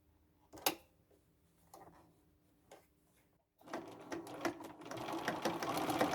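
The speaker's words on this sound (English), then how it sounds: "I'm sewing from the bottom to the top because the fabric sometimes moves" Sewing machine stitching a red velvet tote bag from bottom to top, first quiet with a few isolated clunks and short bursts, then a loud continuous run of dense rapid needle strokes for the final few seconds.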